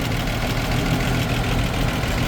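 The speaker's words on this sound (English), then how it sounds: "I've got an exhaust leak." A Land Rover 109 engine idles steadily with a rough, ticking puff in its low rumble from a leaky exhaust; continuous, close, no voices.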